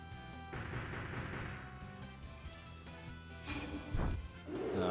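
A Dark Cannon attack fires in the video game Disgaea: Hour of Darkness with crashing, explosive bursts over game music. A heavier blast comes near the end.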